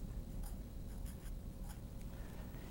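Pen scratching across paper while a prealgebra exercise is worked, steady close strokes with brief sharper scrapes over a low background hum, no voice.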